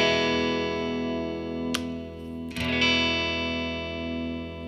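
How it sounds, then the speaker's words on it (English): Epiphone Prophecy SG electric guitar through a Marshall DSL 20 amp with a touch of reverb: a sustained distorted chord ringing out, with two brief pick or string-noise bursts mid-way. "Now today we're playing through a Marshall DSL 20 amp, and we've got a little bit of a reverb added to that sound."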